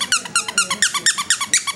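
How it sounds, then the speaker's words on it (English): A cartoon dog in a video game barks and yaps in a quick, steady run of about nine sharp, bright bursts over two seconds, close and alone with no talking. "So come and get me, doggy."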